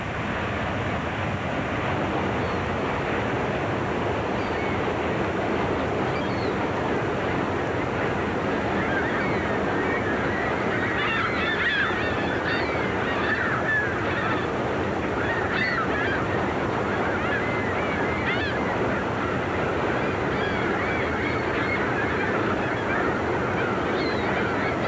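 Gulls call repeatedly over the churning, crashing water at Niagara Falls, their honking cries scattered above a loud, constant roar of falling water.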